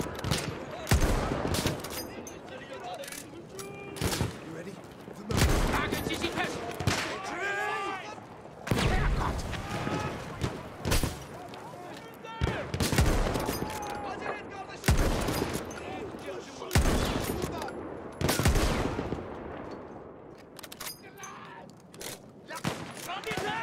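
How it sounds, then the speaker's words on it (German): Repeated bursts of gunfire, single shots and rapid volleys, crack loudly in a busy Battlefield 1 game battle, with voices talking over the shooting. "Guter Schuss, Bischof!"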